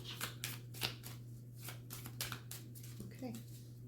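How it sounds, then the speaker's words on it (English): A tarot deck shuffled in rapid bursts of riffling card flicks, close and crisp, with a steady low hum running underneath. "One more shuffle."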